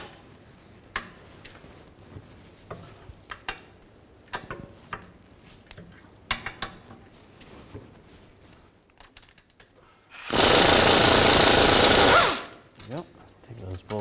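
A power tool with a 17mm socket spins out hub bolts on a rear wheel hub of a 2011-2014 Chrysler 200, one loud sustained whirring burst of about two seconds after scattered clanks and handling noises, with talk before it.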